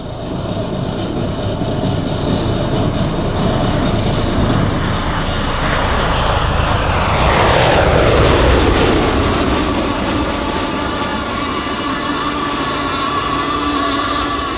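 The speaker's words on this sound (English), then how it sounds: "coming in from the left, the MV-22 Osprey" A USMC MV-22 Osprey tiltrotor passes at an airshow in London, its loud, heavy rotor and engine roar building as it approaches, peaking overhead with a sweeping pitch shift, then fading slightly as it moves away.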